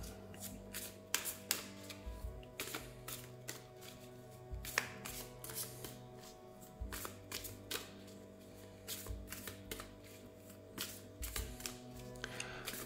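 A deck of tarot cards is shuffled and cards are drawn, giving close, crisp riffles and slaps in uneven bursts with no talking.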